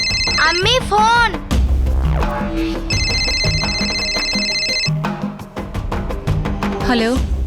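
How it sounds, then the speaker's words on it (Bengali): A telephone rings during a scene in a TV crime drama, with repeated electronic ring bursts sounding over background music and dramatic sound effects. "আম্মি ফোন।"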